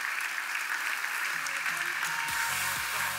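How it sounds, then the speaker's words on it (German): Crowd applause rings out at a triathlon awards ceremony honoring Ironman 70.3 Kraichgau middle-distance winners, a dense steady clatter of many hands that continues throughout, with a low tonal hum entering toward the end. "So, nicht zu geizig sein im Applaus"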